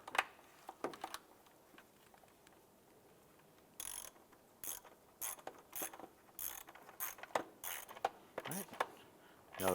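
A ratchet on a socket and extension tightens an intake manifold bolt on a 2011-2019 Ford Fiesta, giving irregular bursts of quick metallic clicking with short pauses between strokes, fairly close and moderately loud.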